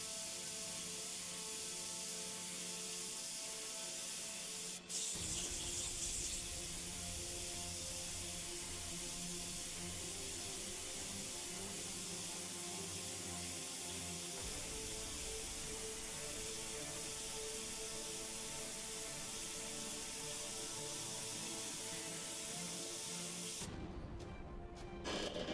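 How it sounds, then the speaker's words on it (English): An airbrush sprays gloss clear paint in a steady, continuous hiss that runs close and even for a long stretch, with a few brief changes in pressure and a short click near the end. "come back in with my airbrush. Kind of smooth it around the edges."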